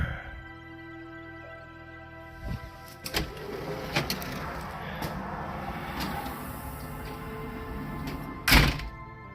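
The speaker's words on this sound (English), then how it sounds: "I wanted to give it a little bit of a bang, because then I know that the latch actually latched" Storm door swung shut and latching, a muffled thunk and a few small knocks from the hardware, then one sharp loud bang near the end as it catches, heard close in a quiet space.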